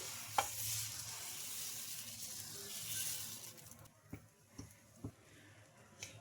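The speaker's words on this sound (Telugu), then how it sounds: "ఒక గెరిట పిండిని అయితే తీసుకొని ఇలా స్ప్రెడ్ చేసుకుందాం" Wheat rava and coconut dosa batter spread across a hot pan gives off a bright, steady sizzling hiss for a few seconds, then quiets into a series of sharp taps and scrapes from the spreading.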